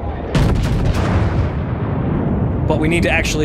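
Warship main-gun salvos from World of Warships boom loudly and in close succession, their rumbling blasts rolling on at length, while someone speaks briefly over them.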